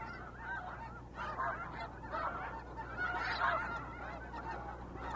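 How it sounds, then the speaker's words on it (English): Geese and other migrating waterfowl honk and call in a steady chorus at Blackwater wildlife refuge in Maryland, a dense overlapping flock sound, moderately distant, with no talk. "Blackwater is a crucial resting and feeding stop for thousands of migrating birds"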